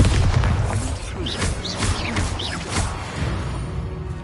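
The Bombarda explosion spell in Hogwarts Legacy goes off as a series of loud, near booms and crashing blasts with whooshing bursts, running continuously from start to finish.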